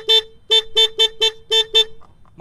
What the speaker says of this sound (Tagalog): Tapos, yung busina.